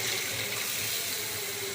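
Chicken soup pours into a pan in a steady, close stream for a moment, a continuous splashing rush with no voices.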